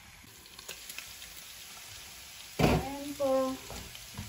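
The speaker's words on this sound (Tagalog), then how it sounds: "saka natin igigisa sa bawang saka sa sibuyas" Pork and chayote sizzle in a hot pan with garlic and onion, a steady frying hiss throughout, with a brief sharp burst of sizzle and clatter near the end and a short spoken phrase.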